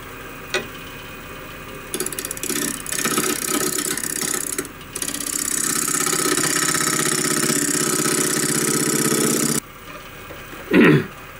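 A wood lathe spinning a natural edge bowl blank at 1,000 RPM gives a steady, loud whirring drone that holds for several seconds, broken by a few brief clicks and a short pause.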